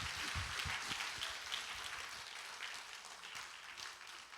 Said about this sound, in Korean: 박수를 쳐 박수를.